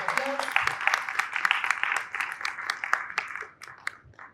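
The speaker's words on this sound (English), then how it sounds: "Please, a warm round of applause." An audience at an arts-market panel session applauds with brisk, dense clapping that starts strong and tapers off over a few seconds, with a voice briefly audible at the start.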